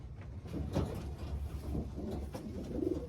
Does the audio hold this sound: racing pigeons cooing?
yes